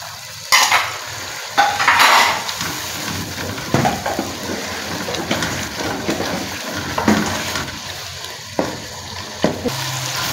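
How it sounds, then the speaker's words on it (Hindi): Spice masala with ginger and chili water sizzling as it fries in a pan, stirred with a utensil that scrapes and clinks in irregular bursts against the steady frying hiss, close up with no talking. "हमारा मसाला जो है ना वो बहुत अच्छा भुन चुका है।"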